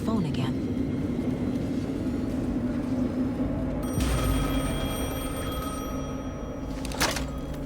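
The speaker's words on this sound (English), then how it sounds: "The phone again." A telephone rings inside the horror game Alan Wake 2, steady electronic tones with bright harmonic bands that sound twice over a constant low ambient drone, fairly close and clear.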